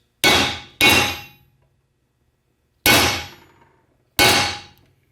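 A hammer strikes a concave expansion plug in a T5 World Class transmission four times, with two quick metallic clangs, a pause, then two more spaced blows, each ringing briefly and decaying, with no talk.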